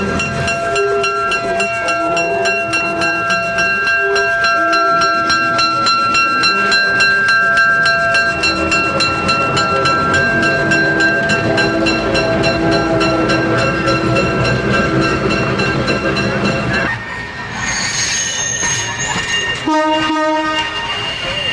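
Locomotives roll past in a railway parade, a loud, steady rumble with horn tones sounding throughout, then a brief change near the end as the last engine passes.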